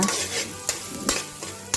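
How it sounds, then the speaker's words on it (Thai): Chopped garlic sizzles in hot oil while a utensil scrapes and stirs the pan, with a few sharper clinks over the steady frying hiss, before duck eggs are added. "ผัดให้กระเทียมเราส่งกลิ่นหอมเหลือง"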